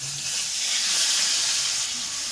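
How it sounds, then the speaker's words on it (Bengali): A spice mix with bay leaf hits hot oil and sizzles, giving a steady, close, bright hiss that holds evenly throughout with no voices. "তো এই মশলাটা তেলে দিয়ে দেওয়া হবে"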